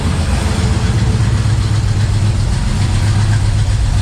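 A 1961 Pontiac Laurentian engine, running for the first time in 30 years on a swap-meet carburetor, idles loud and close with a steady, rough low rumble and no change in pace.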